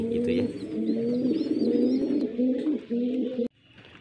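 Pigeons coo in a deep, rolling, repeated call close by, steady for several seconds before cutting off abruptly, with faint background sounds after.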